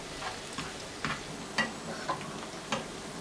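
Chopped sausage frying in a pan for Polish bigos gives a quiet, steady sizzle. Soft spatula taps and stirring clicks break in irregularly every half second or so.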